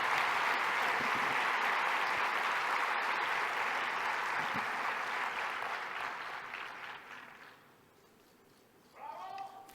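Sustained loud clapping from an audience at an award ceremony, dense and steady for several seconds before tapering off, followed by a voice starting to speak.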